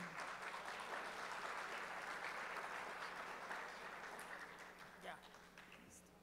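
Conference audience at an agribusiness competitiveness event giving warm applause to welcome a Brazilian agricultural research speaker, a broad, sustained wash of clapping that gradually fades toward the end.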